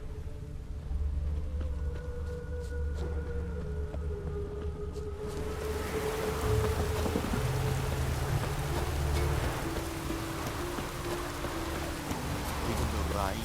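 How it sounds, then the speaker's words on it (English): Steady rain falls across a town in The Witcher 3: Wild Hunt, a broad hiss that thickens midway and holds, layered over low game music and ambient drones. "Even the rain smells good here."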